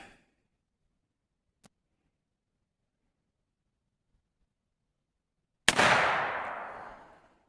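A single gunshot cracks loudly from down range on an outdoor shooting range, then its echo decays over about two seconds, after long near-silence broken by a faint tick.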